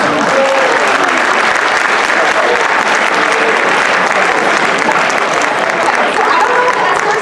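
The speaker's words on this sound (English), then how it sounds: "round of applause for our escorts" A high school pageant audience applauds for the contestants' escorts. Dense, loud applause runs steadily and unbroken for several seconds, filling the hall evenly.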